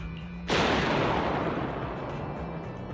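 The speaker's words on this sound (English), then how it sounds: "The explosion instantly sends out a very strong wave of air" Sudden explosion in the video game Zenless Zone Zero, a sharp loud blast after near quiet that settles into a long, heavy rumbling roar of debris and air.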